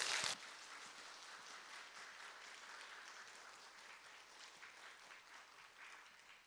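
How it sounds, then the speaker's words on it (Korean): A congregation at a Monday intercessory prayer meeting in a church applauds to welcome a pastor, a steady wash of many hands clapping after a brief loud burst at the start, sustained and fairly even throughout. "우리 정보영 목사님 나오실 때 박수로 우리 환영하도록 하겠습니다"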